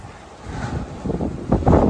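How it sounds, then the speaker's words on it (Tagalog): Strong typhoon wind during Typhoon Uwan in flooded Hagonoy, a broad rushing roar buffeting the microphone, building in loud gusts toward the end, with no voices. "Ayun, sobrang lakas ng hangin."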